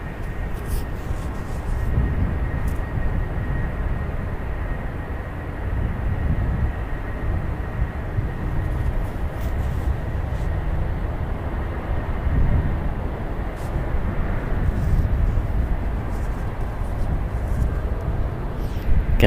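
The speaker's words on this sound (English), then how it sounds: "There's that 777 coming in from Paris." A Boeing 777 arriving from Paris lands on runway 28 right at San Francisco International Airport, heard as a steady, loud low jet rumble and roar that continues throughout the approach and touchdown.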